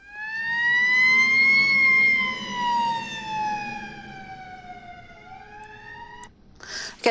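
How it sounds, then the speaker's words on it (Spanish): A loud wailing siren rises and slowly falls in pitch for several seconds, ending with a short burst of noise. "Por ejemplo, una sirena."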